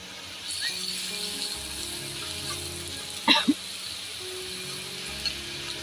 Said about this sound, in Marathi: खोबरं थोडंसं फ्राय झालं की लगेच आपल्याला गरम मसाला टाकायचा आहे